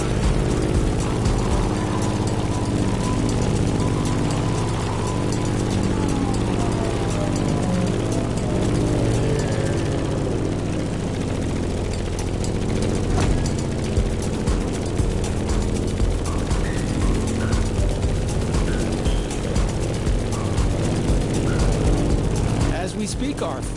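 A Grumman F8F Bearcat propeller plane in a video game drones through a climb, its heavy engine rumbling low and steady for the whole stretch.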